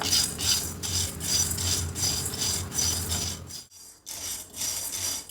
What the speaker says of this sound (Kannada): ನೋಡಿ ಈಗ ಕಡಲೆ ಕಾಳೆಲ್ಲನೂ ಚೆನ್ನಾಗಿ ಫ್ರೈ ಆಗಿದೆ